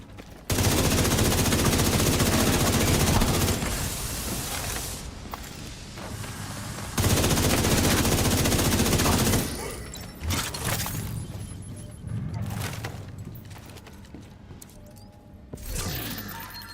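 M249B light machine gun in a video game firing loud sustained automatic bursts, two long streams separated by a pause, then trailing off into scattered shots and mechanical clatter.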